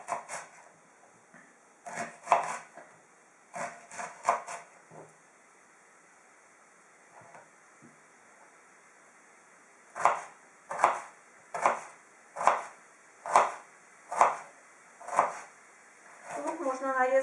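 A knife chops peeled potatoes into small cubes on a board in sharp, close, evenly spaced taps, with a short burst early, a pause, then a steady run of about eight strokes.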